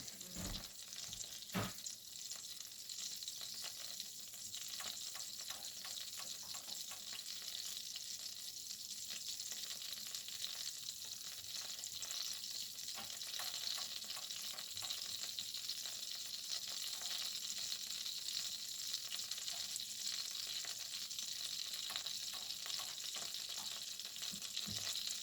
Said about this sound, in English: We're going to caramelize the onions and the apples together and get them softened up.